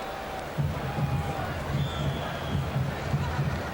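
A subdued stadium crowd murmurs at a 1992 college football homecoming game between Maryland and Florida State, a steady distant roar under a commentator's talk.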